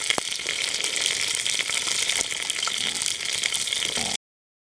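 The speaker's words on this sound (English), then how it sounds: "beautiful sizzle." Pieces of possum meat sizzle and spit in hot venison lard, a close, steady crackling hiss with small pops that runs continuously for about four seconds and then stops abruptly.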